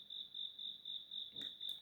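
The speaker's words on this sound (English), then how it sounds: "Next one is crickets." Cricket chirping played from an Anko white noise speaker light: a quiet, steady stream of rapid, evenly pulsed high chirps.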